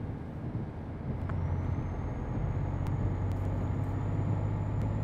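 A Volvo F12/F16 truck in Euro Truck Simulator 2 drops a gear, its low engine drone steady then deepening and louder, with a rising whine and a few faint clicks, no talk over it.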